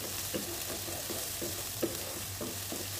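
Chopped garlic, ginger and green chillies sizzle steadily in a pan, with regular spatula scrapes and stirs every half second or so over a low hum.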